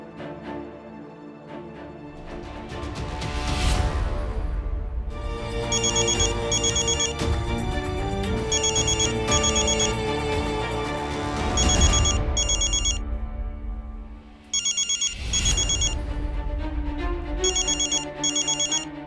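An electronic phone ringtone plays a repeating melodic pattern, loud and bright, cycling through several rounds with brief drops between them.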